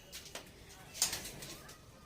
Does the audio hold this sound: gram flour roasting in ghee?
no